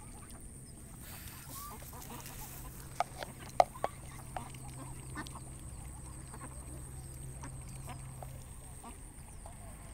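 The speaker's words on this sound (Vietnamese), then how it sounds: "Đây, vịt đây nhiều quá nhỉ, vịt đây, đàn vịt anh nào vậy?" A flock of ducks quacks in a rural setting, with several faint, scattered calls and a few sharper ones against quiet background noise.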